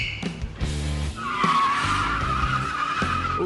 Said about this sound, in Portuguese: Ele foi pro estacionamento dar cavalos de pau e se divertir.